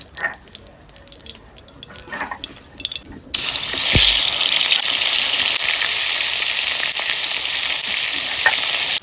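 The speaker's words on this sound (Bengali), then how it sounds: "এবার কই মাছগুলোকে আগে ভাজবো" Koi fish hit hot oil in a pan with a sudden loud sizzle that stays strong and steady for several seconds, close up, after quieter kitchen clatter.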